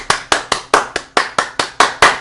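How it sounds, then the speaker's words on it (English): One person claps their hands nine times at close range in an even, deliberate rhythm. Each clap is a sharp, loud smack followed by a short decay, and no one speaks. "Let me clap my hands"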